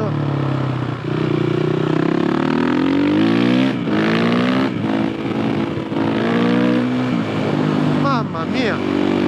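A Suzuki RMZ 450 motorcycle roars along a road, its engine revving up and down with rising and falling pitch across several gear changes, loud and close, while the rider talks over it.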